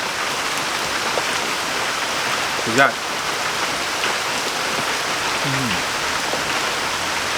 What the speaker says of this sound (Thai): ตกก็ตกไปเลยครับฝน